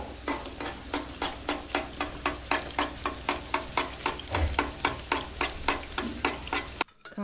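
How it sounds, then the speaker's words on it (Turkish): Bread fries in a pan, with a steady sizzle under a quick regular scraping rhythm of stirring or turning, ending in a sharp clatter. "Başka bir ekmeği de kızartıyorlar şu an."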